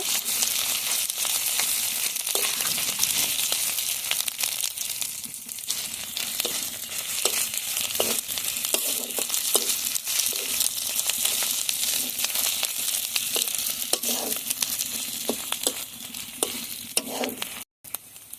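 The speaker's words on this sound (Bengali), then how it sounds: "পেঁয়াজ রসুনের সঙ্গে আদা বাটাটা ভালোভাবে ভেজে নেব।" Ginger paste frying with onion and garlic in a pan for a spicy pigeon curry: a dense, steady sizzle with frequent scraping spoon strokes, close and loud, cutting off briefly near the end.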